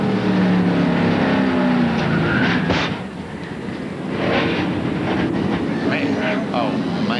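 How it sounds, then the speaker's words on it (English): Loud roaring NASCAR Winston Cup stock cars at Atlanta Motor Speedway fill the air during a violent wreck, with rushing engine noise, a dip in level, then renewed roar and scattered impacts, with commentary underneath. "A very noisy and a very violent wreck."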